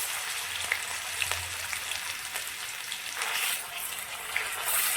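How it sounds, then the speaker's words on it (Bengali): Garlic paste fries in hot oil with dried chilli and bay leaf, a steady close sizzle that swells briefly as it is stirred. "রসুনটা ভালো করে ভাজতে হবে, যেন কাঁচা না থাকে।"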